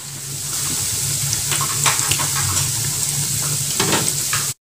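Salty potato-based cookie dough frying over low heat in a pan of oil, a steady close sizzle and crackle with a few brief clinks and stirring sounds.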